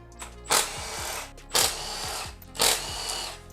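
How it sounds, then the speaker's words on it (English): Impact wrench loosening spark plugs on a 2001-2006 Hyundai Tiburon GT, firing three loud, close bursts of about half a second each, evenly spaced with brief pauses between them. "So what I usually do is get in there with an impact or a ratchet, a long extension."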